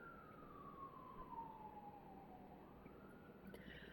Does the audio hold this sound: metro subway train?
no